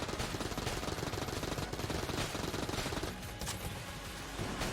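Rapid, continuous gunfire from the Enter the Gungeon video game, a dense stream of sharp shots that runs almost without pause and eases slightly near the end.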